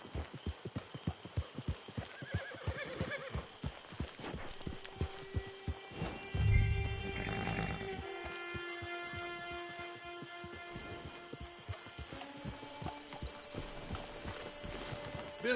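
In the video game Red Dead Online, a horse's hooves clip-clop in a steady rhythm, then the horse gives a loud whinny partway through, followed by quieter mechanical clicks and tones with faint talk in the background.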